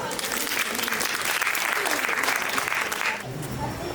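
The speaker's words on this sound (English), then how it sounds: "Huge round of applause, please." An audience at a tribute concert applauds steadily and loudly as a singer is called to the stage, a dense wash of clapping that holds for about three seconds and then fades down.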